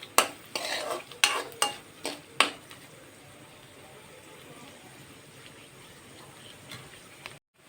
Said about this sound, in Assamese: এতিয়া ইয়াত চেনিখিনি অলপ সিজিবলৈ দিছোঁ, নহ'লে গোটা মাৰি ধৰিব লৰাই নিদিলে।